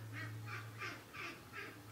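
A duck quacks five times in a steady rhythm, close and moderately loud, with a low indoor hum underneath in a home during laundry sorting.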